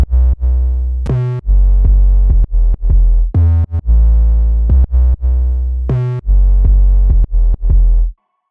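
Deep synthesized sub bass from an electronic music production plays alone, loud and close, in a series of sustained notes and short stabs with occasional pitch slides, ending in silence.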